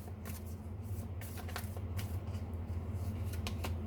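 Tarot cards shuffled and drawn by hand, a soft continuous riffle with sharper flicks as cards are pulled, close and fairly quiet over a low steady hum, with no talking.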